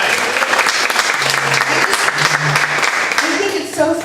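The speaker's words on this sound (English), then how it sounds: "I would love it if we could give these two gentlemen a huge round of applause as they are sponsors to our new members." Enthusiastic audience applause at a Rotary club meeting honoring two sponsors of new members, loud, dense clapping throughout, with brief voices and a low tone emerging beneath it near the end.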